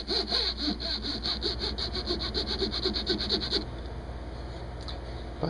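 Sandpaper scrapes back and forth across enameled copper coil wire on a crystal radio. The rasping strokes come close and quick for about three and a half seconds, then stop, leaving a faint hiss.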